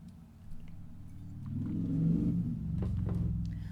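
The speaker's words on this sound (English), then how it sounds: "Loud car." A loud car passes nearby on a rainy day, its low engine rumble swelling to a peak in the middle and then easing off, with faint knocks and clicks on top.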